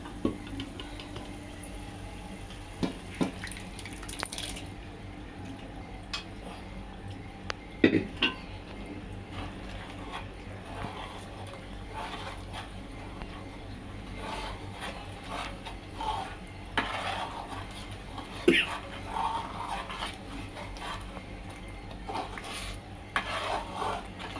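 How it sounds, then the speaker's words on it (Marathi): Quiet kitchen sounds: a spoon scrapes and clinks against a pot in scattered taps while mashed pav bhaji vegetables are stirred in, with faint background hum. "मॅश केलेली भाजी आपण टाकून घेणार आहोत"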